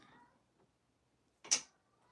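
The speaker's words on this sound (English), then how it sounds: "That cat's not coming in here." A cat gives one short faint meow, with quiet surroundings.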